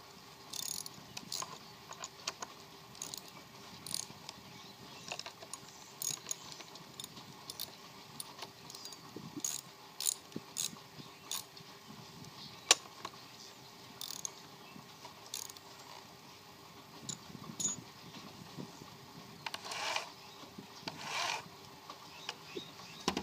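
Adjusting and tightening down a chainsaw chain and bar during pear tree work: scattered metallic clicks, ratcheting and jangling taps at close range, irregular and fairly quiet, with no talk.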